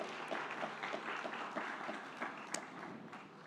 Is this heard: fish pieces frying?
no